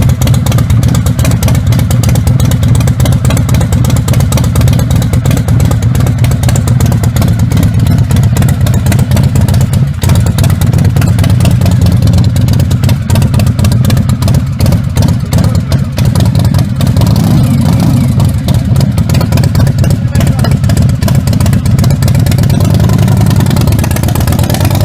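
A loud, throaty custom homemade motorcycle engine runs continuously close by through a short, downward-pointing exhaust, its rough rumble steady with slight rises in revs.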